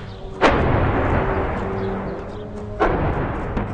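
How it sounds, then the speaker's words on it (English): Gunfire rings out in the city streets of Homs: two loud, sharp blasts about two seconds apart, each trailing off in a long echoing rumble. "it's just non-stop gunfire."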